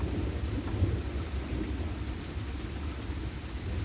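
A morning thunderstorm in Port Huron, Michigan: steady heavy rain pours with a low continuous rumble of thunder underneath, even and enveloping throughout.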